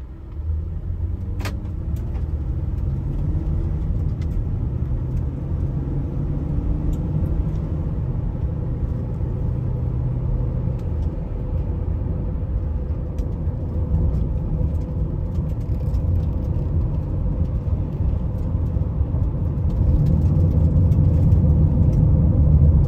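A 2012 Honda Odyssey EX-L minivan on a test drive, heard from inside the cabin as a steady low road rumble and engine hum that swells slightly near the end, with no talking.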